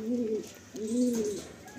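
Two soft, low coos in succession from Madrasi Chotiyal pigeons, close by in a loft, with a quiet room background and no talking.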